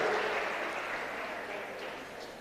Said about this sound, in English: Let's give the panel a big round of applause